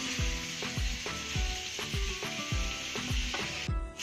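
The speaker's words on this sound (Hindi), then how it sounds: "एक पैन रख लिए हम, इसमें फ्राई कर लेंगे फिश।" Fish frying in a pan with a steady loud sizzle, broken by a regular rhythm of about eight low knocks as it is stirred or turned, with a brief pause near the end.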